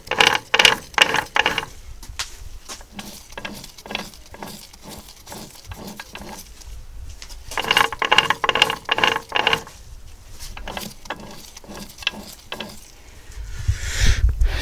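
Worn Morris Minor gearbox in first and reverse gives a loud ratcheting, grinding mechanical whine that comes in two bursts separated by quieter stretches, close up with no talk.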